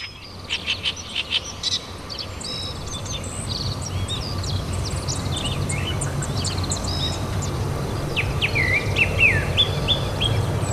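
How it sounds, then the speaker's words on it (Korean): Lively spring birdsong in a village among rice paddies and windbreak woods, several birds chirping and trilling overhead, quick bright calls over a soft outdoor hum of insects. "봄이면 마을 곳곳에서 경쾌한 새소리가 울려 퍼집니다."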